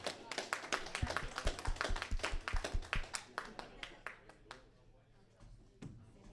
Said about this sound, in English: Let's hear a big round of applause for Smasher.